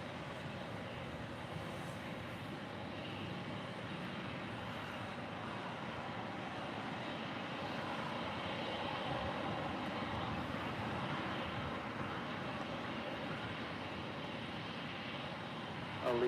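A Lufthansa Boeing 747 taxis across a taxiway at LAX, producing a continuous moderate jet engine rumble and whine with no talk over it.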